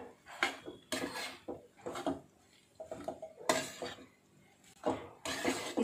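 A utensil stirs Hakka noodles and vegetables in a pan, knocking and scraping against the metal in quiet, irregular strokes with short pauses between them.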